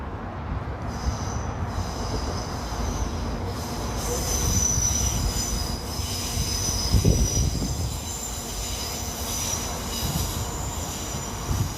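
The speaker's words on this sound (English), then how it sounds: "Another train, regular service at trains." Train wheels squeal against the rails in Glasgow, a high, sustained metallic screech over the low rumble of rolling carriages, with no one speaking.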